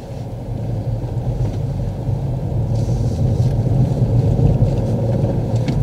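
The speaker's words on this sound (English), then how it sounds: "When moving off at these lights, Layla's buildup of speed is quite slow" A learner driver's car pulls away slowly from traffic lights, a low steady engine rumble building gently from inside the cabin with no voices.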